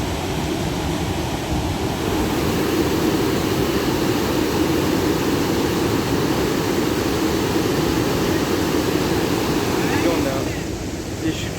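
Montmorency Falls roaring continuously as a dense, loud rush of falling water mixed with wind buffeting the microphone, steady throughout with no talking.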